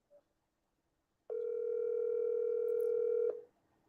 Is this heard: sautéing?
no